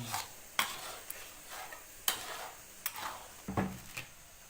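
Sugar is stirred into food in a pot: a spoon scrapes and taps against the pot in several separate strokes, some louder than others, close by with no talking.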